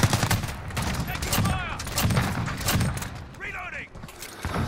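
Video game gunfire pops in repeated loud shots and short volleys, close up, with voices talking over the shooting.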